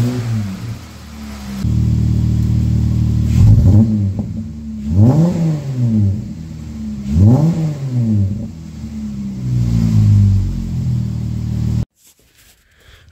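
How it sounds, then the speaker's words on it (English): Car engine fitted with a cold air intake revving repeatedly in a garage, several sharp rising-and-falling revs with a droning intake note, loud and close, then cutting off abruptly near the end. "still sounds about the same on the intake side. A little bit of a drone"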